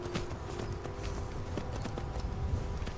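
Horse hooves clop steadily as the mount walks in Skyrim Special Edition, a continuous run of close, moderately loud footfalls with no talking over them.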